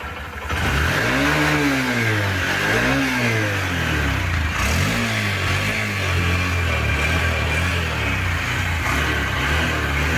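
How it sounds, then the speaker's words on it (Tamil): A Honda SP125 motorcycle engine revs up through several throttle blips, then settles into a steady, loud exhaust drone, recorded up close with no talking. "புது SP125 எக்ஸாஸ்ட் சவுண்டு கேட்டிருப்பீங்க"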